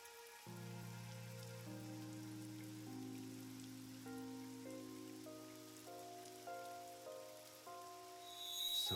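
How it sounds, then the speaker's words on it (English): Steady rain hisses across the whole scene in the video game Ai: The Somnium Files, a continuous wash beneath sustained, layered background music, with a brief louder swell near the end. "Oh, it started raining. It's raining."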